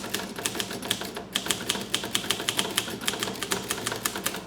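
A Groma Kolibri typewriter is typed on steadily, its crisp, hard key strikes clacking in a quick, even rhythm, close and clear with no voices.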